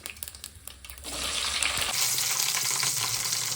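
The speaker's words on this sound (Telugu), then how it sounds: "ఆయిల్ హీట్ అయింది. మనం జీలకర్ర, ఆవాలు యాడ్ చేసేద్దాం. పచ్చిమిర్చి, ఆనియన్ కూడా యాడ్ చేసేసుకుందాం." Cumin, mustard seeds, green chili and onion hit hot oil, and a steady loud sizzle with some stirring rises after a second and holds to the end, with no talk.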